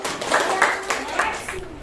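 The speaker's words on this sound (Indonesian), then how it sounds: "kita kasih tepuk tangan dulu" A class of students claps in a classroom, giving a few short uneven bursts of hand claps mixed with voices, fairly close and moderately loud.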